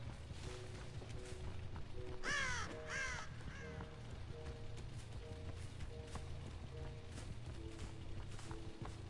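Crows caw in a short burst over a steady game soundscape of low ambient rumble and repeating tones, a few harsh calls clustered together early on, with nobody speaking.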